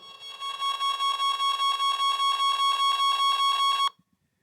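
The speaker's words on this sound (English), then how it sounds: "It's beeping louder now" An Amstrad PPC640 computer's low-power alarm beeping in a fast, steady pulse, loud and close, repeating for several seconds before cutting off abruptly.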